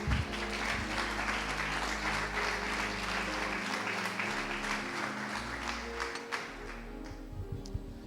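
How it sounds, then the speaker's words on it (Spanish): Applause breaks out among a prayer-service congregation, steady crowd clapping over low background hum, gradually thinning toward the end. "¿Cuántos aplauden su nombre?"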